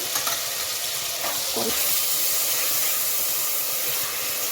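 Green chilies and spices fry for egg biryani with a loud, steady sizzle and hiss, broken by a few brief stirring scrapes, close and with no talk.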